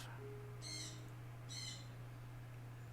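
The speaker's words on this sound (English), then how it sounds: "The birds are welcoming us." Two bursts of bird chirping from the Minecraft video game, short repeated calls heard faintly over a steady low hum.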